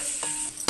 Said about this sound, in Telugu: మసాలా వేసుకుని కూడా తిప్పాలి